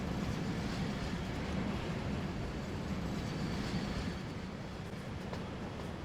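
A train runs on tracks in Transport Fever 2, a steady rumbling rail roll with faint clatter that holds at an even level throughout, with no voices.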